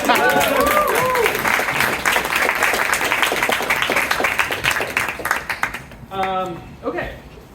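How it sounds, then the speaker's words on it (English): An audience at a science meetup bursts into loud, dense applause that holds for several seconds, then thins and fades out while a voice begins talking near the end. "let's give them a round of applause"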